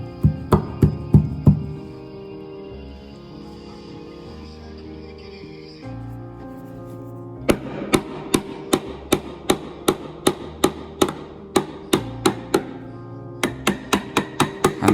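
A rubber hammer knocks steps into pre-countersunk holes on a sailboat's stern bathing platform, landing sharp, close blows in irregular runs with a pause in the middle, then a steady, even series of strikes.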